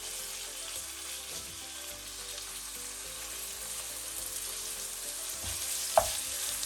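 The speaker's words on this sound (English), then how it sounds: "Once the pan warmed up, we are going to put in our pork mince." Pork mince fries gently in oil over low heat, a soft, steady sizzle with a low hum beneath and a sharp clink near the end, close and without speech.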